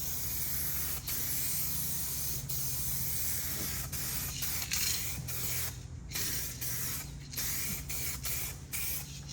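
Automotive paint is sprayed onto a panel during a DIY home rust repair, giving a steady close hiss in repeated passes broken by brief pauses, with no talk over it.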